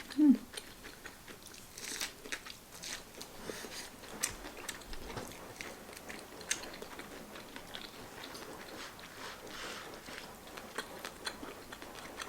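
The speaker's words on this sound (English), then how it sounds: "So let's take a bite. It's so chewy." Someone bites into hot ear of corn fresh from the steamer and chews it, giving close, crisp crunching and wet chewing in irregular bursts with no talk.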